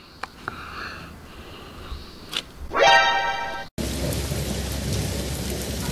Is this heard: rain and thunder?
yes